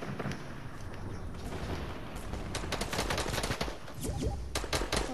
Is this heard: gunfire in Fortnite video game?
yes